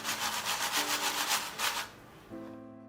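Homemade crispy fried potato chips, made without boiling or drying, crunch in a quick series of close, dry bites. The crunching then fades into quieter handling.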